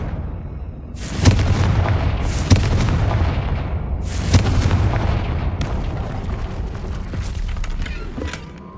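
Confringo spell explosions burst in the Hogwarts Legacy video game: several loud, sharp blasts with long rumbling tails under dense, continuous crackling and booming, with no talk.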